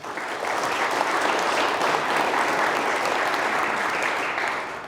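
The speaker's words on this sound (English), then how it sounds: "let's give them a round of applause" Crowd at a 2024 Hall of Fame celebration applauds the coaches, a full, steady round of clapping from many people, loud and even throughout, with no speech over it.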